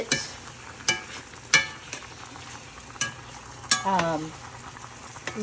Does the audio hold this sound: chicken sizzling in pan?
yes